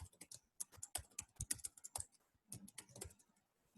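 A computer keyboard being typed on quickly at close range, with uneven bursts of crisp key clicks, a short pause midway, then a few more taps fading out; no one speaks.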